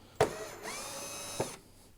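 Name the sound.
Ryobi power drill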